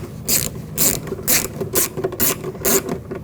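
A ratchet tool clicks in quick bursts while screws are tightened on a BMW X5 front door handle reinforcement, about six loud, evenly spaced ratcheting strokes up close.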